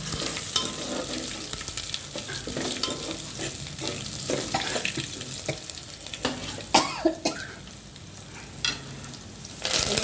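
Someone coughs from the sharp fumes of a garlic, dried red chilli and curry leaf tempering frying in oil, a few coughs standing out near the end over continuous sizzling and stirring.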